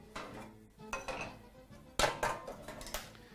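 A metal pan being grabbed and handled in a home kitchen, giving several quiet clanks and clinks of cookware, with one sharper knock midway, close by and alone.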